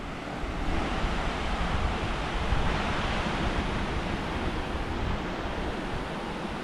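Waves wash onto Playa Coyote beach in Costa Rica in a steady, broad roar of surf, with wind rushing through it and no voices.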